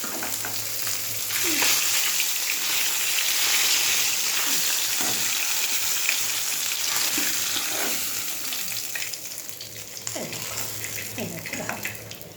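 Black cumin seeds crackle in leftover fish-frying oil in a home kitchen, a bright continuous sizzle with scattered utensil taps, fading slightly toward the end.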